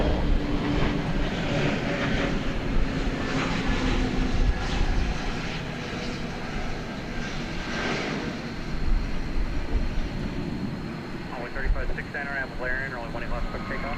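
A jet aircraft on the runway at DFW Airport gives a steady, loud broadband engine roar throughout, with a voice speaking faintly in the mix.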